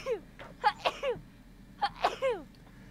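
Someone sneezes, a couple of sharp gasping bursts near the mic during a tabletop fantasy role-play session, separated by a short pause.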